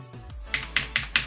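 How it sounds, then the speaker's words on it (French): Four crisp keystrokes on a Corsair K55 or Razer BlackWidow computer keyboard tap out at an even pace, close and clear against a quiet low hum. "quand je vous ai fait écouter les bruits de clavier"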